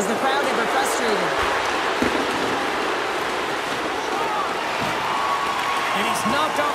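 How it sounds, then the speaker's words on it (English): A frustrated arena crowd in the NHL 24 hockey game makes a constant, broad murmur and roar that sits under a commentator's speech, with a few faint thuds from the ice. "and man, is the crowd ever frustrated."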